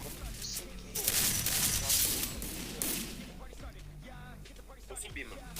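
Rapid bursts of gunfire from a mobile shooter game, with a G36 rifle among the weapons, crackle densely in the first half and then thin into sporadic shots, mixed with a player talking over it.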